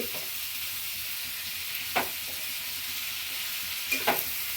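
Tomatoes sautéing in a pan for a spiced gravy give a steady, close sizzle, broken by a few sharp spoon scrapes near the middle and end. No voices.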